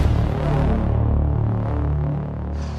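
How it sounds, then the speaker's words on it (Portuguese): Highway traffic with many cars passing, a continuous low throbbing rumble from the road that rises and falls softly, heard from nearby. "peço até desculpa pelo barulho aqui, porque é uma rodovia que passa muitos e muitos carros"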